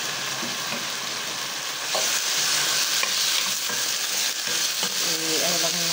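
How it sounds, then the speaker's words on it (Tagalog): Pork frying in a hot wok-style pan, a loud continuous sizzle with stirring scrapes throughout, growing slightly louder after the meat goes in; no one talks. "Painitin na natin yung kawali. Ayan guys, ilagay natin yung pork."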